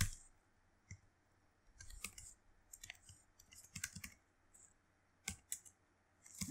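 Keys tapped on a computer keyboard while entering code, a few scattered quiet clicks and short bursts of keystrokes with pauses between them, close and faint in an otherwise quiet room.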